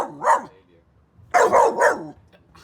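Dog barking in a backyard beside a pond: a single bark, a short pause, then three quick, loud barks close by.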